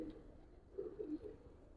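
Giribaz pigeons coo softly in a quiet space, a few low burbling calls in quick succession, faint and close with nothing else over them.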